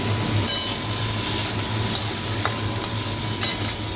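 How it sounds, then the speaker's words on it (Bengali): Potatoes and pointed gourd fry in oil in a wok, giving a steady, close sizzle that runs the whole time, with a low hum underneath and occasional light clicks of stirring. "এবার আলু পটলের তরকারিটা বসাবো।"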